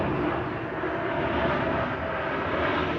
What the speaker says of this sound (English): Big boy plane coming through to the DeKalb airport over there.